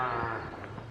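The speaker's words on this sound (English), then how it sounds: "Lots of cows on this trail" A cow on a hiking trail in Teton Valley, Idaho gives a single close, drawn-out moo with a harmonic tone, fairly loud and alone.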